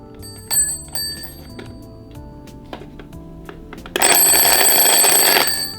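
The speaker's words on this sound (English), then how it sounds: "if I turn this on now and I get the alarm to work" A loud, shrill alarm clock bell rings steadily for the last couple of seconds, preceded by quieter clicks and faint background rumble.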